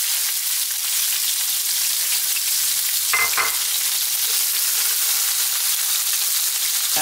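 Onions sizzle steadily in a hot pan for a vegetable coconut curry, a loud, continuous hissing fry broken by one brief clatter of stirring partway through.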